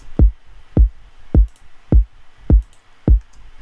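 A punchy kick drum sample from an FL Studio beat plays in a straight 4/4 pattern, six deep thumps evenly spaced about half a second apart, dry and alone.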